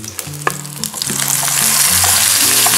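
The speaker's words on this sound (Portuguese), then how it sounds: "Agora abaixa o fogo, o torresminho de vaca não queimar aí, e acrescenta o bacon." Beef cracklings and bacon fry in a pan over lowered heat, giving a close, steady sizzle and crackle that grows denser as it goes, with occasional scraping stir sounds.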